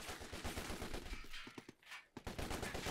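Ambush gunfire from a Company of Heroes 2 match: dense, rapid bursts of rifle and machine-gun fire crackle continuously, with a brief lull before the shooting resumes loudly.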